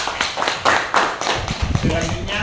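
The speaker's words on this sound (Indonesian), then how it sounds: "Jadi beri tepuk tangan untuk kelompok 1." Classroom students clapping for group 1 after a presentation on Asmaul Husna, a short, fairly loud burst of scattered hand claps with a voice talking alongside.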